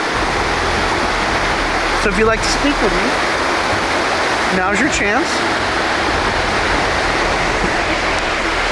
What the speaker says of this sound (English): Now we're by the beautiful water here.